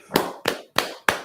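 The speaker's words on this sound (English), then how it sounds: "Let me give you some applause here." Four sharp, evenly spaced claps sound in quick succession, a short dry clapping effect played during a sports podcast.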